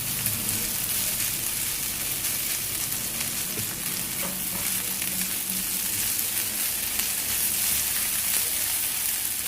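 Meatballs and chicken sauté in a hot frying pan, giving a steady, close, dense sizzle that runs unbroken from start to finish with no talking.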